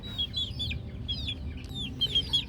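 Gamefowl chickens in a pen give repeated soft clucks and short rising calls while being fed, several birds close by over a low steady background rumble.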